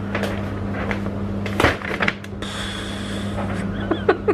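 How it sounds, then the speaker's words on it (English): A tumble dryer runs nearby with a steady low mechanical hum that never lets up, while a few soft knocks and clatters sound over it. "that noise you can hear is a tumble dryer"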